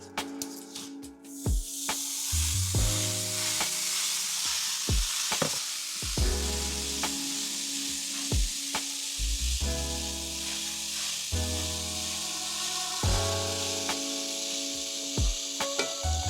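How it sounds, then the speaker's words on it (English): Ground beef sizzles in a pan over medium heat on a stove: a steady, moderately loud frying hiss with scattered pops and scrapes, under a steady background of music and no talking. "Our ground beef has been cooking for a total of about 11 to 12 minutes"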